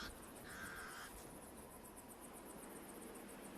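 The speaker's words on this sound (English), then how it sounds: "The pied crows sound the alarm again." Pied crows give faint, distant alarm caws over a steady hiss of insects in the African bush, one harsher call standing out early before the calls fade into the constant background chirring.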